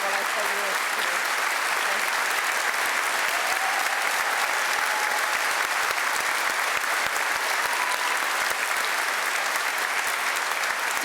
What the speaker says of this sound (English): We'll just wait there while the applause goes down.